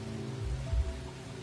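Steady rain falling in a Roblox game, a continuous even patter with a low rumbling swell midway, alone without talk.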